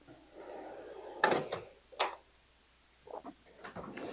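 A drawer in a US General, Icon or Husky tool chest being handled, with a few sharp metallic clacks and slides spaced apart against a quiet room, including a louder bang of the drawer moving.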